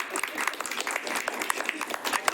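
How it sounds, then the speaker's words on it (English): Applause at a procurement standards board meeting: a modest round of clapping from a small group, brisk and even throughout, with crisp individual claps close by. "Should we pause for applause for Daniel?"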